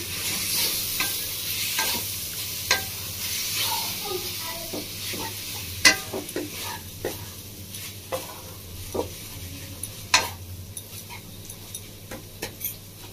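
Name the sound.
stirring cashew, raisin and apple paste filling in a pan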